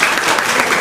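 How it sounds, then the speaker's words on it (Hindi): Classroom applause: a short burst of many hands clapping together, dense and close, lasting under a second. "ताली बजाइए इसके लिए आप लोग।"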